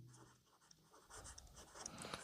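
Pen or marker scratching out a linear equation on a board during a Class 10 math lesson on pairs of linear equations in two variables, steady writing strokes with quiet gaps, close and moderately soft, no talking.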